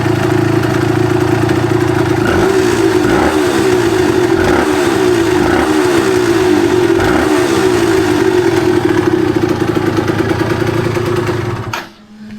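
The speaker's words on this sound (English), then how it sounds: "Hopefully you can hear the difference in the engine note." A Suzuki RG 125 motorcycle engine that won't run right runs loud and close, its note surging up and down in rhythmic pulses before cutting off abruptly near the end.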